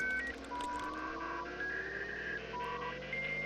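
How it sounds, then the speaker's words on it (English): A dial-up modem sequence inside The Sims 4: a run of steady electronic dialing tones and rising beeps, loud and continuous over a constant hum, with no voices. "Dial up."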